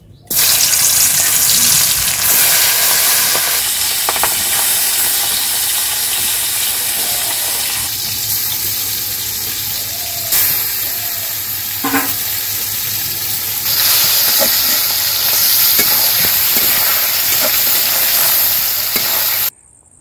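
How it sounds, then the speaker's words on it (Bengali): Fish frying in oil in a wok over a village stove in Bangladesh, a loud, steady crackling sizzle that runs throughout, with occasional clinks and stirring scrapes close by. "আর মাছটা ভেজে নিব, চুলাই কড়াইটা বসাই দিব।"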